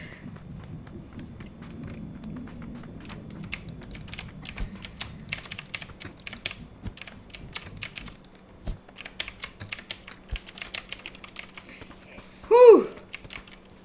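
Mechanical keyboard keys clatter in quick, irregular bursts of close clicks while playing PUBG on PC, with a short vocal outburst near the end.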